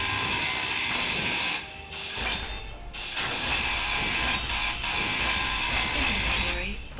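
A level 3 grinder in the Space Engineers video game runs loud and continuously, a harsh metallic grinding whir with brief dips in intensity, under scattered talk.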